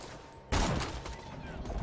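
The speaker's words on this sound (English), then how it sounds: "they're shooting me." Enemy gunfire in the video game Borderlands 2, a sudden burst of rapid shots that keeps rattling under the game's background noise.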